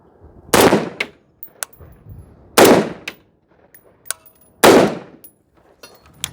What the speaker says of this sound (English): here is the Bren 2 MS, and this is the 11-inch variety, unsuppressed